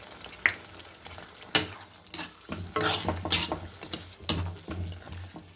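Mutton thokku being stirred in a frying pan with a spoon, giving repeated scraping and clattering strokes at irregular intervals over a low background sizzle, close and moderately loud, with no voices.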